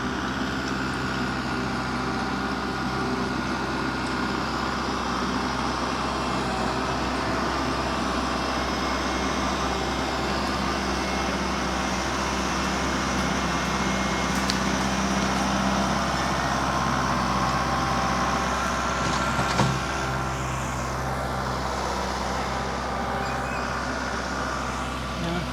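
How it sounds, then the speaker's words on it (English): Continuous low diesel engine drone from a tractor working on a modern farmhouse build site during septic system installation, a steady rumble at moderate distance with no talk. "My husband had hopped in the tractor, so let's see what he got going on down here."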